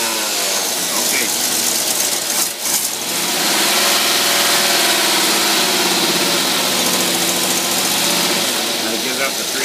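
Boat engine with a two-barrel carburetor idling steadily and loud at close range, a continuous rumble with one brief dip early on, a voice talking over it.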